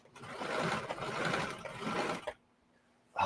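Sewing machine stitching along a jeans leg, a close buzzing run lasting a couple of seconds before cutting off into near silence, then starting again briefly at the end.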